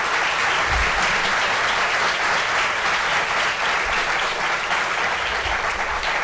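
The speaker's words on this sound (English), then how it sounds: "please give them a round of applause to welcome them" An audience at a film talk applauds to welcome guests, loud, even, sustained clapping from a large crowd that holds steady throughout.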